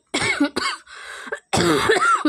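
Several harsh coughs from a woman who is unwell, spoken up close in a home kitchen while cooking fried pointed gourd, a burst, a quieter pause, then another loud fit.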